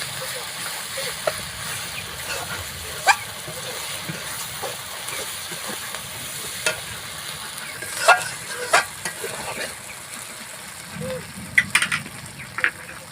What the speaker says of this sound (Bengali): সব মশলা দিয়ে কিন্তু এবার সুন্দরভাবে আমি কষিয়ে নেব